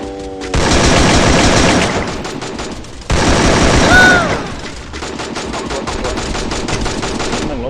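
Video game gunfire, loud and up close: rapid automatic bursts with rhythmic ticking shots, a brief pause near three seconds, then a heavier burst and continued steady firing to the end.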